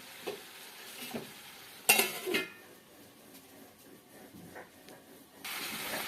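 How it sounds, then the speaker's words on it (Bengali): Ridge gourd and onion being stirred in a cooking pan: scattered scraping and clinking of a utensil against the pan, one sharper clatter near the middle, a soft wet sizzle underneath, no talking. "আমি ঢাকা খুলে আবার নেড়ে নিয়েছি।"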